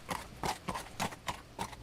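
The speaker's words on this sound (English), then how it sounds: "I can hardly hear my horse's hooves scuffling against the dead, dry plain" A horse's hooves fall in a steady clip-clop rhythm across a dry, dead plain in a video game, with about six distinct thuds over a low ambient backdrop.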